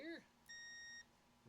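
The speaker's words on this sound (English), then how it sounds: "we're set up on continuity, so you should hear" A bench multimeter on continuity mode gives a single steady electronic beep lasting about half a second, clear and close, with a brief chirp and quiet room noise around it.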